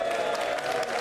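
Clapping from a crowd at an election count, a brief burst of many hands with some cheering mixed in, fairly loud and close, with a faint voice underneath.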